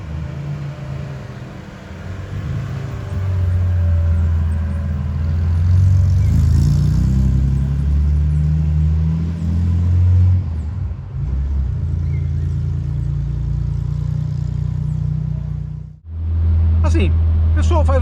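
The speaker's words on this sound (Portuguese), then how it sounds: "Vocês veem que ele tá com um ronco mais... que ele tá discreto, ele tá um ronco bacana." Chevrolet Opala Diplomata 250-S coupe idling with a steady, deep low engine rumble close by, a brief dip near the end before the throb resumes.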